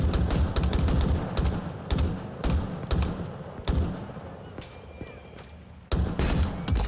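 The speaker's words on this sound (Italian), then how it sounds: "Spari da là in fondo." Distant gunfire in the Halo Infinite video game, sharp repeated shots and bursts in irregular clusters over continuous background game noise, with a brief lull before firing resumes.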